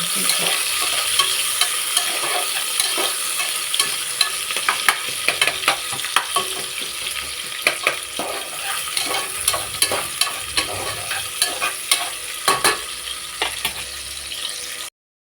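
Ground masala for pulao, blended with tomato, sizzles in a pan as it is stirred. A continuous frying hiss runs throughout, broken by frequent scraping and clinking strokes of the spoon against the pan, with no voices.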